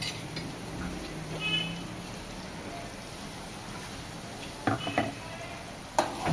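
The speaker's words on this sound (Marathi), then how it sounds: "तर वाटण घातल्याच्या नंतर आपण सगळं व्यवस्थित मिक्स करून घेऊया आणि काही सेकंदासाठी आपण हे वाटण परतून घेऊया" A spoon stirs masala paste into a potato, peas and brinjal curry in a pan, with a soft continuous sizzle and scraping, then a few sharp utensil clinks against the pan near the end.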